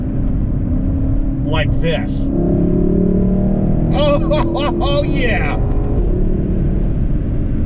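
A 2022 Lexus LC500 convertible with a 5-liter V8 rumbles loudly and revs steadily as it accelerates, while someone speaks and exclaims over the engine.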